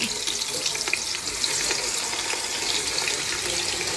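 Onions and meat hit a hot pan at a Marseille grill-restaurant evening, giving a steady, close, bright frying hiss that holds evenly throughout with no voices.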